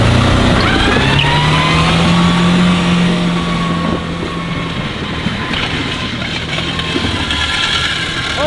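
A car reversing on four flat tires gives a loud, steady engine drone with a rumbling low hum that eases slightly partway through, close and continuous.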